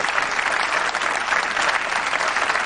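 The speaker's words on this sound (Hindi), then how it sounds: "तालियां बजती रहनी चाहिए।" Studio audience on the Kaun Banega Crorepati quiz show breaks into sustained, dense applause, loud and steady throughout with no pauses.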